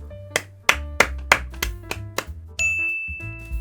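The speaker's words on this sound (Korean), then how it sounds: "여러분 먼저 박수 한번 치고 시작합시다." A single person's hand claps ring out one at a time, close and sharp, in a loose series of about eight, followed by a brief sustained chime-like tone.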